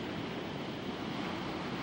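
Big ocean waves roll and break during the U.S. Open surfing contest, a steady loud wash of surf with broadband roar and no other sounds.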